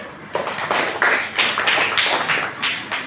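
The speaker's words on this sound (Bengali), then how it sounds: "সামির জন্য হাততালি" Classroom of primary-school pupils clapping for a classmate: dense, steady applause from many hands at close range, continuing for about three seconds with no voices.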